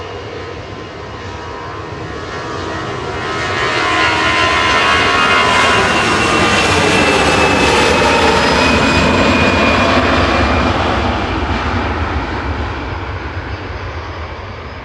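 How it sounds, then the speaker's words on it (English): An easyJet jet airliner at Manchester Airport roars past with a loud, broad engine rumble that swells to a peak midway and then slowly fades. "This is EasyJet to Cos."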